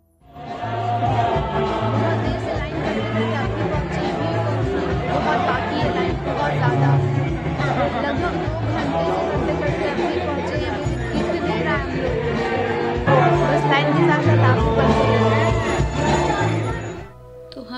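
Dense crowd chatter from a long queue at a Durga Puja pandal in Sodepur, Kolkata, a steady loud babble of many voices filling the whole stretch.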